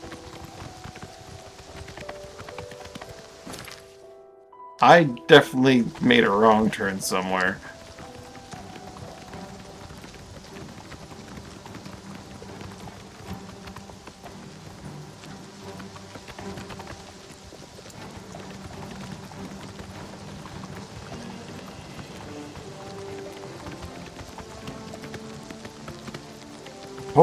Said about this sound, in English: He is trotting like nobody's business.